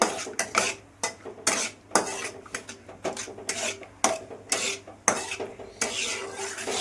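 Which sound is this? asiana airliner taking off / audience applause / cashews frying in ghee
cashews frying in ghee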